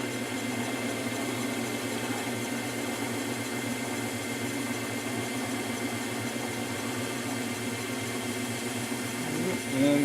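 A wood lathe spinning during top turning: a steady, even motor hum and whir held throughout, rising slightly at the very end.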